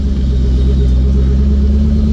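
A heavy Ford Crown Victoria with no power steering drives along, its engine giving a steady, loud low rumble close by without a break.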